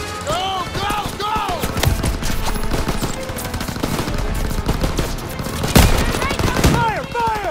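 Dense, sustained gunfire from a World War II battle in Call of Duty WWII, rapid machine-gun bursts and rifle shots rattling throughout with sharp loud cracks near the end, while shouted voices break through the din.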